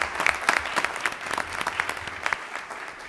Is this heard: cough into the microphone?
no